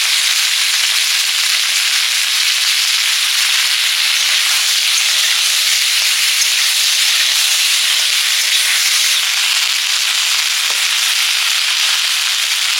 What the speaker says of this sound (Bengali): সরষের তেল দিয়ে দিলাম, পাঁচফোড়ন। এবার ভেন্ডিগুলো দিয়ে দিচ্ছি।